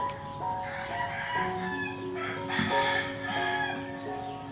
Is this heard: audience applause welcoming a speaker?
no